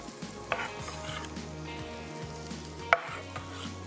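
Garlic sautés in a pan, a low steady sizzle with soft stirring and a couple of sharp utensil knocks against the pan, no talking.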